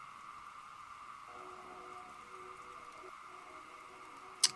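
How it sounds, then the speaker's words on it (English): Steady rain hisses in the Derail Valley train simulator, an even wash of drops on the cab with faint mechanical hum beneath and a brief sharp click near the end. "Oh, and it's raining."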